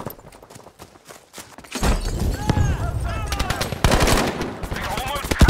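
Battlefield V gunfire: bursts of automatic shots and a few single cracks, loud and dense over a busy game soundscape, growing heavier after a quieter opening.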